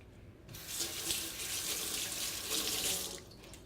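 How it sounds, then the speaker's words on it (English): A kitchen tap runs steadily while someone washes their hands, a close, even rush of water lasting about three seconds, then cut off. "I like washing my hands in between everything"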